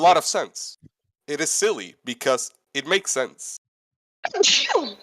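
A single sharp sneeze bursts out near the end, close and loud, after a stretch of conversational speech from nearby voices.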